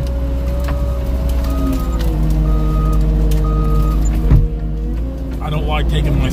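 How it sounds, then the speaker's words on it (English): A skid steer loader engine idles with a steady low rumble, and intermittent reversing beeps sound over it at a regular rhythm, loud and close, with some clunks near the end. "I don't like taking my skid steer into places like this"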